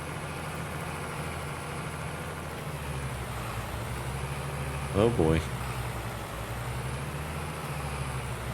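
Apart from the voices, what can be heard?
tractor engine straining in snow, Farming Simulator 22 video game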